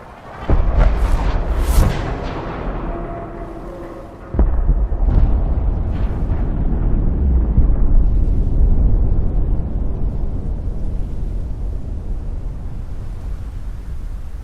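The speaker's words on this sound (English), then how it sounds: "Liberty Prime opened fire on the Pridwin" Heavy explosions as the giant robot Liberty Prime fires on the Prydwin airship in Fallout 4: a few sharp booming blasts early on, then a long, loud rumbling roar that slowly fades.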